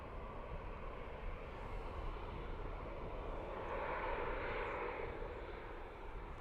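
A Ryanair airliner departing Dublin Airport for London Gatwick, its engines producing a steady, distant broadband roar that swells slightly midway, heard faintly with no voices.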